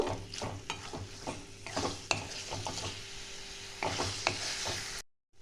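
Minced mutton stirred and fried in a pan for Bengali-style kheema ghugni, with a steady sizzle and repeated scraping spoon strokes throughout, then a sudden cut to silence at the end.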